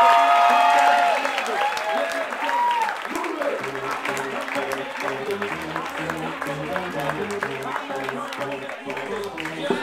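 Wedding reception guests applaud the ring bearers, a loud burst of clapping that tapers down under music and an announcer's voice as the clapping continues.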